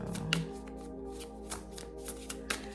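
Tarot cards are shuffled up close, a quiet, continuous papery riffling with a few sharper snaps and taps over a faint steady hum.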